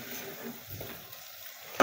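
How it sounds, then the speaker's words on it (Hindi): About 300 grams of chicken fries in a pan for a bhindi gosht, giving a soft, brief sizzle and some stirring, fairly quiet and with no talk. "चिकन को हमने 2 मिनट के लिए फ्राई करना है ऐसे ही।"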